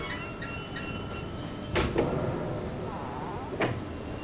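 A heavy door worked by a valve handle opens in Tomb Raider 2 Remastered on an offshore rig, with two short metallic clunks and a brief sliding rumble over a low mechanical hum.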